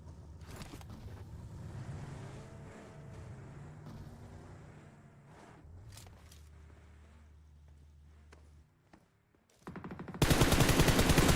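Gunshots in PUBG Mobile: scattered shots crack out early over a low engine-like hum, growing sparse and distant before a loud burst of noise at the end.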